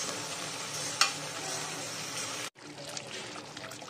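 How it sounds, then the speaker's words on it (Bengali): Mutton fries in released oil with a dense sizzle and a sharp spoon clack, then a break and a quieter patch of crackling and scraping as stirring continues. "দেখো তেলটাও ছেড়ে দিচ্ছে, আর একটু কষিয়ে নেব"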